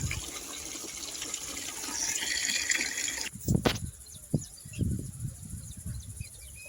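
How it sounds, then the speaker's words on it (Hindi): Water gushes steadily from a tap as someone washes hands and feet in summer heat on a farm, a loud continuous rush that cuts off abruptly, followed by separate splashes and drips. "हाथ पग धोवा"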